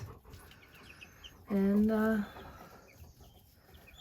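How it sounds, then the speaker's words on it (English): Young turkeys on a farm give a single clear, tonal call lasting under a second, close by, over a quiet background. "these little guys here are the turkeys"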